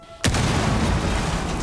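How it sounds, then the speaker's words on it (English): A frag grenade detonates against a Vulcan deployable shield in Rainbow Six Siege, one loud sudden boom after a brief quiet moment, followed by a sustained roaring rumble of debris. "the Vulcan shield is still a deployable shield at heart, meaning it can be destroyed, and the explosion triggered by a frag grenade."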